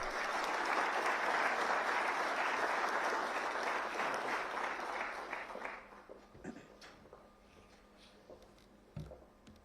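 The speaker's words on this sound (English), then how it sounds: "With a huge round of applause, let us all welcome Sir." Audience applause at a BrahMos missile user meet attended by military chiefs, a loud round of clapping from a large hall that thins out after about six seconds into scattered, isolated claps.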